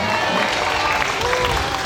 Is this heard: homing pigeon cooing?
no